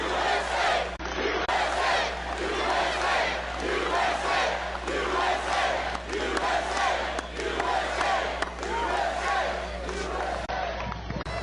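A large rally crowd cheers and roars for President Trump at a Panama City Beach, Florida event, a dense, sustained wall of shouting and applause throughout.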